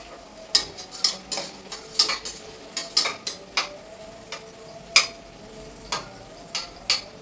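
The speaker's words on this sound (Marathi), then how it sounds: "कांदा छान ब्राऊन होईपर्यंत त्याला तेलात परतून घ्यायचं आहे" Onions sautéing in oil in a pan until brown, a soft sizzle under repeated sharp scrapes and clinks of a spoon against the pan at an uneven rhythm.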